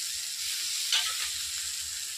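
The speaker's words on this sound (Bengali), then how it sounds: "নাড়িয়ে নেবো এই চাটনিটাকে।" Tomato-date chutney with tamarind water stirred in a pan, a soft steady sizzle with one brief scrape near the middle, close and fairly quiet, no voices.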